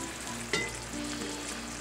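Veal liver fries in a pan with a steady, close sizzle, and a brief scrape partway through as it is stirred. No one speaks.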